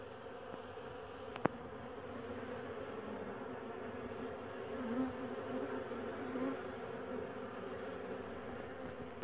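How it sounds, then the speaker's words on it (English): Many honeybees buzz in a steady, dense drone close by, cleaning out a two-frame honey extractor, with a few brief clicks and small swells in intensity, and no voices. "I'm letting the bees clean out the two-frame extractor"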